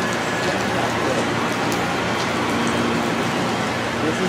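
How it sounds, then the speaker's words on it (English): Heavy rain pours down steadily at a station, a dense, unbroken hiss of drops drumming on surfaces nearby. "It's raining so hard at the station right now."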